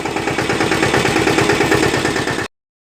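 A heavy farm vehicle (sanedo) engine chugging steadily at idle, loud and close, with a regular throbbing rhythm before stopping abruptly.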